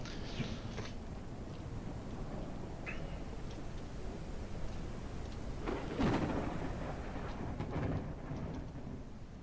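Steady rain hisses in the Farming Simulator game while low thunder rumbles in the distance, swelling into a louder roll partway through, continuous and without voices.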